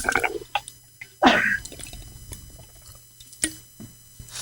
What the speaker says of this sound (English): I just coughed and I was taking a sip of water